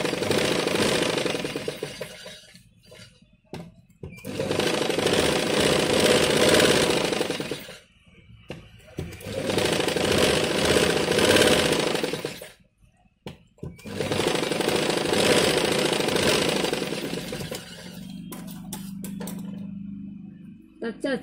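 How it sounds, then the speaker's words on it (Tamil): Sewing machine stitching along the edge of blouse fabric, running in four long loud bursts of a few seconds each with brief pauses between, ending in a softer low hum. "இப்போ நம்ம வந்து இதில் ஓரத்துலேயே ஒரு தையல் போட்டுக்கிடுவோம்."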